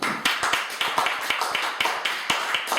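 A worship congregation at a church service claps in acclaim of Jesus, sharp handclaps coming in quick, slightly uneven bursts that sound close and lively.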